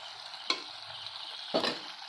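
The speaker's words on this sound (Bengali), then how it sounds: "এটা ঢাকনা খুলে একটু নাড়াচাড়া করে নিলাম" Snake gourd curry is stirred in a pan just after the lid comes off, two brief scraping strokes of a spoon against the pan over a soft, steady sizzle.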